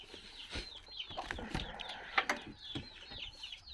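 Several chickens cluck and chatter close by, with short repeated calls overlapping at an irregular rhythm.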